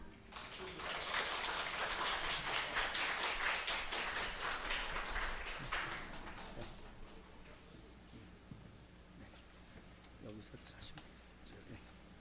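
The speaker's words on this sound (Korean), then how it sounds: "다시 한번 박수 한번 크게 한번 해주세요." A church congregation gives a loud round of applause before a member's testimony of faith, with a thick burst of clapping for about six seconds that then thins out to scattered, fading claps and quiet room noise.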